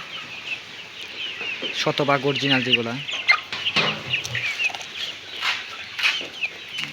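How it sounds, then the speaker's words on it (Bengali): Tiger breed chickens about a month old on a poultry farm, clucking and chirping close by in an ongoing flock chatter, with a person talking over them. "এগুলি হচ্ছে অরিজিনাল টাইগার মুরগির বাচ্চা"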